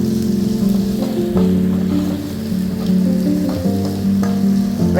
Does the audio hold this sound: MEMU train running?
no